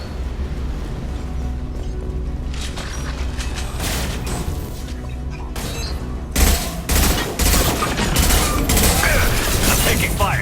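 Gunfire in Mass Effect 2 on Tali's loyalty mission: scattered shots and bursts of rapid fire with booming impacts build into dense, loud volleys, a voice occasionally heard amid the combat.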